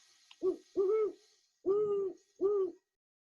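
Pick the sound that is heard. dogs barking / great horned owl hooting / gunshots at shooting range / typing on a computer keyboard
great horned owl hooting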